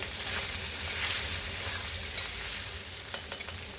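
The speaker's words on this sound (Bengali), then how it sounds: "এবার ভালো করে আমি আদা রসুনটা একটুখানি ভেজে নেবো" Ginger and garlic frying in a pan, a low, steady sizzle with a few quick stirring scrapes and taps near the end, quiet and without speech.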